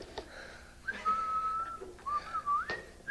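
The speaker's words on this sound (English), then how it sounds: "I was whistling" A person whistles a sustained, slightly wavering tune in two phrases, close by, with a few soft knocks and faint background noise.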